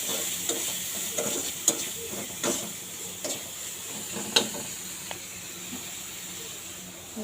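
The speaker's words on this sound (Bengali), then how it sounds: "তো সব মশলা একসঙ্গে দিয়ে আস্তে এভাবে হালকা জালে ভেজে নেব।" Mixed spices frying gently on a low flame, a quiet steady hiss broken by intermittent scraping stir strokes and light clicks, close up with no speech.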